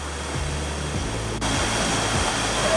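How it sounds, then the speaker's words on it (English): The waterfall at Uisge Ban Falls on the Cabot Trail makes a steady broadband roar, continuous and loud with no breaks, while low music-like tones sit underneath. "Waterfall, I'm pretty sure it's just up there."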